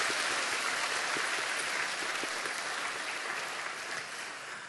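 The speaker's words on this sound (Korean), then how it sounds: "옆에 분에게 격려의 응원의 박수도 한번 하겠습니다." Church congregation clapping in encouragement for one another during a revival meeting, a steady, even patter of many hands sounding somewhat distant and moderately soft, with no talking over it.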